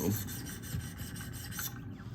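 A Spyderco PM2 Maxamet knife blade strokes across a Wicked Edge sharpening stone of about 800 to 1,000 grit, giving a faint, repeated rasping scrape in quick succession.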